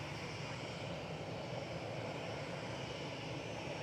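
A British Airways Shuttle plane arriving from Heathrow lands at Manchester Airport with a steady, distant engine roar that continues without a break.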